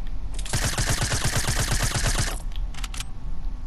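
A burst of rapid automatic gunfire from Fortnite rattles off as one steady, close, loud run of evenly spaced shots, followed by a few scattered clicks and taps.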